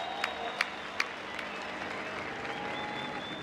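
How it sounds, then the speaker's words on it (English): Spectators at a Formula Drift Long Beach competition applaud a drift driver, a faint, distant patter of clapping under a public-address ambience, with a few sharp isolated claps near the start. "applause for Matt"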